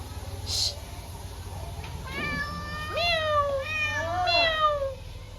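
A cat meows several times, drawn-out wavering cries one after another, under steady background noise with faint talking.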